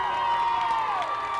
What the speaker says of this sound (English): crowd is cheering as